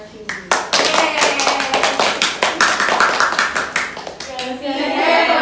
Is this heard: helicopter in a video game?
no